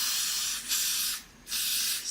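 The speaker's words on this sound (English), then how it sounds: "Then I'm gonna spray." Two long hissing bursts from a spray can or bottle onto a wig during installation, each about half a second to a second, separated by a brief pause, close and fairly loud.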